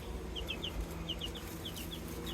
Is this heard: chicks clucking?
yes